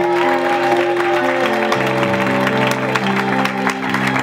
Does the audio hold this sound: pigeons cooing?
no